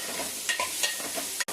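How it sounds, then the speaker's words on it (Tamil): Masala with turmeric and green chilli is stirred in a pan, a brief, soft sizzle broken by a few spoon scrapes, quiet and close with no talk. "இந்த கலர் எல்லாத்தோடையும் மெர்ஜ் ஆகணும், அதனால் இது மாதிரி கிண்டி கிளறிக்கிட்டே இருக்கணும்."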